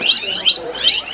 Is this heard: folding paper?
no